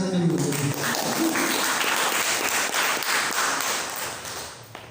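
Applause from the audience at a student government handover ceremony at Unitri university, a steady wash of clapping that holds at an even level for the whole stretch, with a faint voice low underneath.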